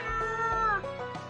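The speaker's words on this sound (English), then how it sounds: "One of the barn kittens comes over and rubs against your leg, looking up at you." Barn kitten in the video game Choices: Stories You Play giving one clear, drawn-out meow that rises and then falls, close and alone.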